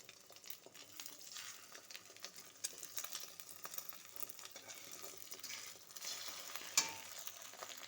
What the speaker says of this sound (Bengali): এবার ডিম ভেজে সকালের খাবার রেডি করব